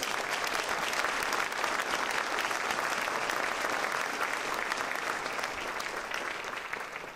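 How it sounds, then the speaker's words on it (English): Dense, steady audience applause fills a hall at a 2015 State of the City address, loud and continuous throughout before easing slightly at the very end, with no talk over it. "One more round of applause, please."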